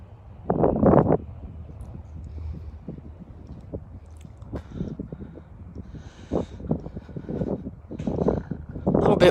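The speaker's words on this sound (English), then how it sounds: "A little bit windy today." Wind on a sunny day at a flying school airfield, blowing from the south-southwest: irregular low gusts buffet the microphone in rumbling bursts, loud at the start and again toward the end, over a quieter steady rush.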